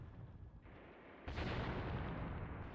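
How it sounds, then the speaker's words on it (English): Soviet artillery fire in the video game Mius Front lands as heavy booming impacts, a dull blast followed by a sudden louder crash that leaves a sustained rumbling roar, with no talk over it. "This is Soviet artillery."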